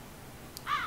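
A crow in a catching cage gives a single short, harsh caw near the end of a quiet moment.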